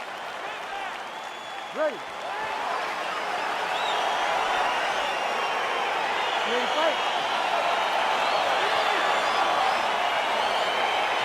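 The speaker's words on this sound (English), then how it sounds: "crowd getting excited as this fight gets underway" An arena crowd roars and applauds in the UFC 4 video game, a broad continuous swell building loudly under an announcer's voice.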